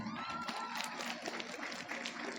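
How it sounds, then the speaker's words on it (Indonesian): An audience at a crowded Islamic religious gathering breaks into steady, dense clapping that fills the whole stretch at an even level, with a faint murmur of voices mixed in. "Tepuk tangan."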